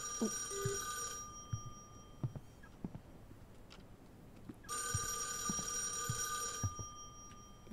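Old telephone bell rings in two long bursts with a pause between, heard in the horror video game [REC] Paroxysm, loud and close over a dark ambient background with scattered soft knocks.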